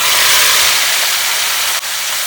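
Chopped onion tipped into hot oil already tempered with dried red chilli, bay leaf and cumin, giving a loud, steady sizzling hiss that runs the whole time with one brief dip near the end; no voices.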